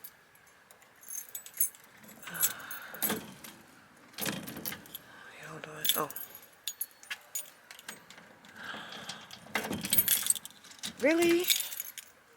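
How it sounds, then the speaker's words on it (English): Old house keys jangle and clink in bursts as someone fumbles for the right one at a door, close to the mic, with someone talking between the rattles. "I got my old keys. Shit, I don't remember which one opened the door."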